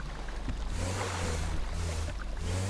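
Boarding a boat in GTA 5 Online: a steady low engine hum with washing water noise runs throughout, fairly loud and continuous, with no talking.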